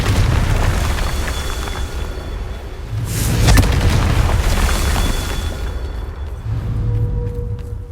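Fire spell explosions in the Hogwarts Legacy video game: deep booming blasts that swell and fade, with one sharper burst standing out midway and another rumble near the end, loud and close.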